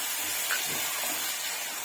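Cucumber pieces added to a hot pan after seeds have been roasted, for a Bhogi festival mixed vegetable curry, giving a steady close sizzling hiss that stays even throughout.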